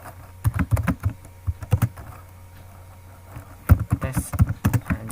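Rapid clicking keystrokes on a computer keyboard while setting up basic web development files, coming in uneven bursts with a pause in the middle, close and fairly loud over a faint background hum.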